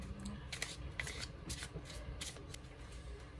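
Joking Hazard game cards being shuffled, a close, quiet riffle of rapid flicking snaps in a few quick bursts.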